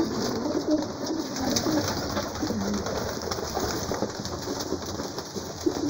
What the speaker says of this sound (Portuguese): Pombo subindo em cima de pombo.